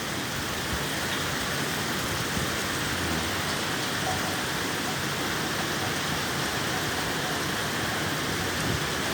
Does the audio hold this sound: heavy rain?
yes